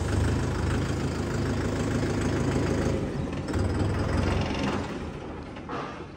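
A Mahindra Yuvo Tech Plus 585 DI 4WD tractor's diesel engine runs loud and close with a steady knocking idle, dipping briefly before easing off near the end, with no talk.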